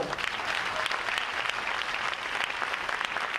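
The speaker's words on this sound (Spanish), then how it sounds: "Denle un aplauso al Señor" A church congregation gives a round of applause to the Lord mid-sermon, a loud, continuous wash of many hands clapping steadily with no speech over it.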